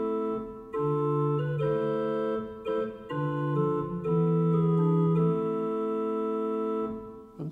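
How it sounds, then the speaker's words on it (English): Chamber organ sounding its 8-foot stopped diapason stop alone, a soft, round flue tone playing a slow sequence of sustained chords and melody notes, steady and close with no talk. "There's an 8-foot stop diapason,"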